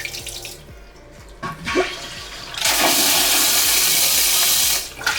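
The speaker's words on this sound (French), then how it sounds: "la chasse d'eau va se tirer" A Japanese toilet flushes, a loud rushing gush of water that surges and runs steadily for a couple of seconds, preceded by softer water trickling and mechanical clicks in a small bathroom, no one speaking.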